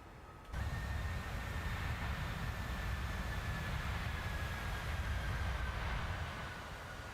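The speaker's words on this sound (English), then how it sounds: "Today the airplane is sounding really nice." Steady broadband roar of a Boeing 737 airliner in the PMDG 737 add-on for Microsoft Flight Simulator 2024, swelling in abruptly and holding loud and constant with a faint high whine, no talk.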